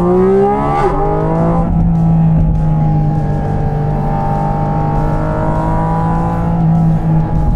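A Porsche 718 Cayman GT4 RS engine pulls hard in first gear, a loud, close, continuous howl with a rising pitch after a brief dip, heard from inside the car.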